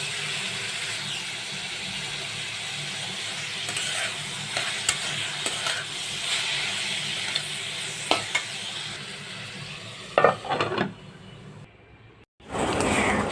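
Chopped teasel gourd and potato fry in a pan, a steady close sizzle with stirring scrapes and a few sharp clinks near the end, briefly dropping out before resuming.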